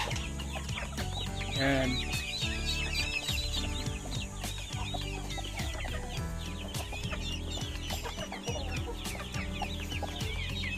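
A hen brooding a clutch of duck eggs clucks steadily and close by among other chickens and birds, with a brief spoken word from a person early on.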